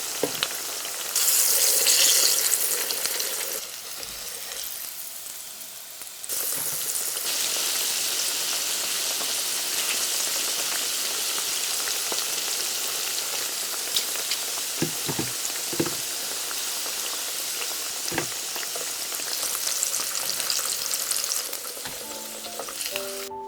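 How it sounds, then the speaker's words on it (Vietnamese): Pork pieces frying in hot oil until golden on both sides: a loud, continuous sizzle and crackle close up, with occasional stirring and small pops, and no talking. "Chiên cho đến khi thịt vàng đều 2 mặt như thế này"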